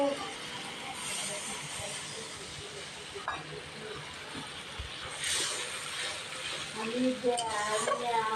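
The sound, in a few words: spice masala being stir-fried in oil for fish curry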